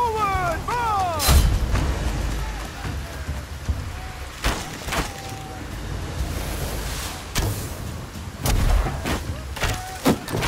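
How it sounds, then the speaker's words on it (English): Battering ram smashing a castle gate during a siege battle in the video game Conqueror's Blade, heavy booming impacts repeating at intervals amid a noisy battlefield din with shouting voices. "The battering ram has reached."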